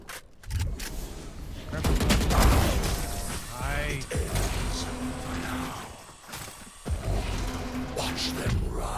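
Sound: gunfire in a shooter video game

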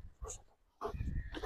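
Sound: Doberman dog whining

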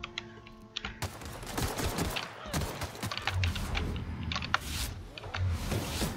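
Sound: mortar fire in the video game The Outer Worlds

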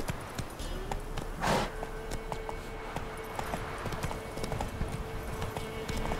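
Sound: horse hooves walking in video game The Witcher 3

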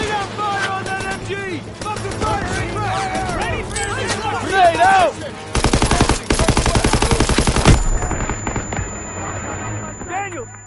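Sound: machine gun fire in Call of Duty video game

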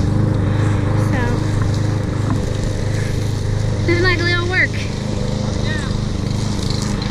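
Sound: lawn mower cutting grass

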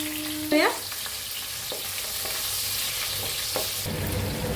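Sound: long-cut green chillies frying in oil with asafoetida

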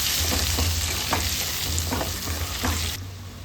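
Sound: eggs frying in oil

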